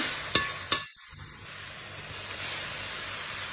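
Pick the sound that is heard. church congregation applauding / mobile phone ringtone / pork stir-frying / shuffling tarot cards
pork stir-frying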